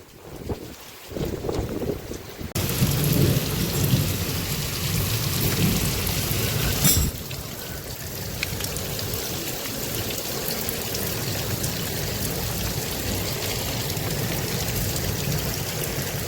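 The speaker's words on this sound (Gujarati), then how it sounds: "પાણી ચાલે છે અને બરાબરનો વરસાદ ચાલુ છે" Heavy monsoon rain pours steadily in Banaskantha, Gujarat, a dense broadband roar with low rumbles of thunder and gusty wind buffeting the microphone; no voices.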